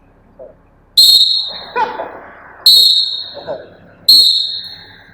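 Three sharp, loud whistle blasts spaced about a second and a half apart at a DR Congo vs Senegal football match, with a crowd murmuring and shouting in between.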